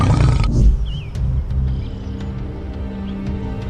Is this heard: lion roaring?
yes